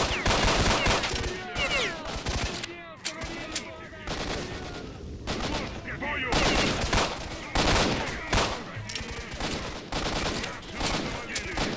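Dense gunfire in S.T.A.L.K.E.R.: Shadow of Chernobyl, sharp rapid shots and bursts packed close together throughout, with voices talking over the shooting.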